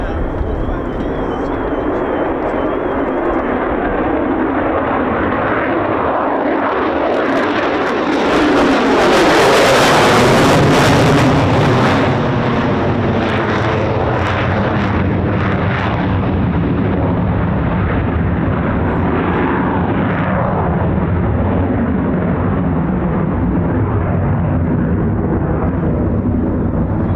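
A military jet, F-15 or F-35 at RAF Lakenheath, roars on takeoff as a loud, sustained, rumbling engine blast that swells to a peak and then stays heavy. Wind buffeting and handling noise sit on top, with no voices.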